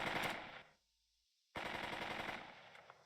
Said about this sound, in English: Spot with the mortars. Fire the mortar.